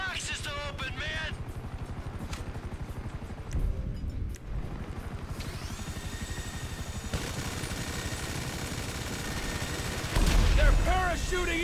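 Gunfire in the video game GTA 5, with dense bursts of rapid shots and heavier blasts over a busy mechanical rumble, while game voices talk through parts of it.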